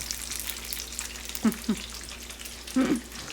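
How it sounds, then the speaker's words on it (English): Panko-coated fish deep frying in oil, a soft steady sizzle with a few louder bubbling bursts, close by. "Cooking fish in panko is the easiest thing on the planet."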